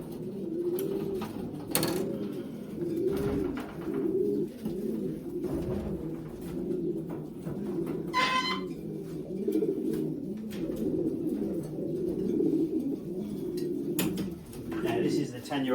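Racing pigeons coo continuously while being packed into baskets before a race: soft, overlapping throaty coos close by, with occasional knocks and rustles.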